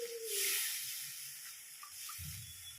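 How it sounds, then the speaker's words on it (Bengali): Water is poured into a pan of well-fried spice masala for a prawn curry made without coconut. It gives a sharp burst of hissing steam that settles into a softer, continuous sizzle with faint bubbling. "এবার আমি দিয়ে দিচ্ছি জল। মশলাটা ভালোভাবে কষানো হয়ে গিয়েছে,"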